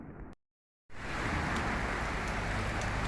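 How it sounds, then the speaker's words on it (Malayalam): Heavy rain falls in Kerala as a steady, dense hiss that fills the air right after a short silent cut, with no voices. "പക്ഷേ ഇവിടെ അതിഭയങ്കരമായ മഴയാണ്"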